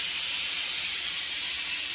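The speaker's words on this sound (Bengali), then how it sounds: "পটলগুলোকে আমি একটু ভালোভাবে ভেজে নিয়েছি" Pointed gourd pieces frying in oil in a wok give off a steady, loud, close sizzling hiss that never lets up, with no voices over it.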